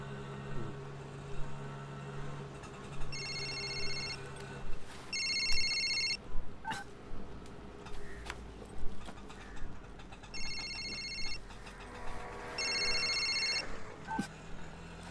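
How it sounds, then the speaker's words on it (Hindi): An old-fashioned telephone rings in repeated double bursts, two pairs separated by a pause, heard indoors over faint background noises and clatter. "किसका फोन है?"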